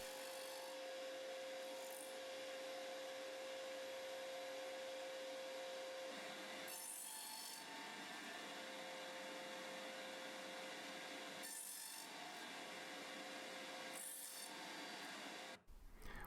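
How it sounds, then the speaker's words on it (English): A table saw nibbles waste from a wooden joint, its steady high whine running throughout with several brief louder bursts as the blade bites, ending in a short thump. "set up a stop on the miter gauge and another on the fence and start nibbling away"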